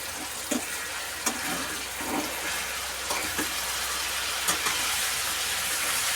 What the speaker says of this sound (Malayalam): ഇത് നന്നായിട്ടൊന്ന് ഫ്രൈ ചെയ്തെടുക്കാം.